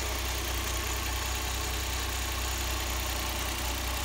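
A freshly assembled Suzuki K6A fuel-injected EFI engine runs at a smooth, steady idle. The hum is continuous and even, close by, with no talking.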